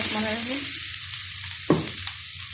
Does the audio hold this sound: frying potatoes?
yes